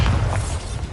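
The Bombarda spell explodes in the video game Hogwarts Legacy during a boss fight, a short, heavy, booming blast with a deep low-end rumble that fades within a second.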